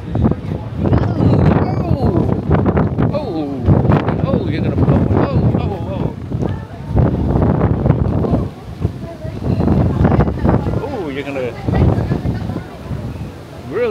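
Strong wind on the deck of the cruise ship Wonder of the Seas at sea buffets the microphone in gusty low roars while people talk throughout.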